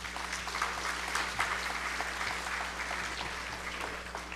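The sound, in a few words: audience applause for panelist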